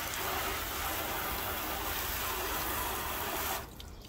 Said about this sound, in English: So you can see, it's quickly shooting the water away.